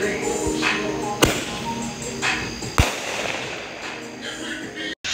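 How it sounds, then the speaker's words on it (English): Fireworks bursting during a Fourth of July celebration: two sharp loud bangs stand out amid a steady background of crackling and distant pops, with excited crowd voices and cheering throughout. "Whoa, guys, look at the fireworks!"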